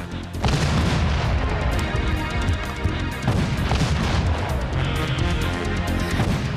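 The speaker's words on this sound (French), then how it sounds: "Arrêtez! Arrêtez les canons!" Heavy booming blasts roll in repeated waves, loud and close, like a barrage of cannon fire with crashing echoes.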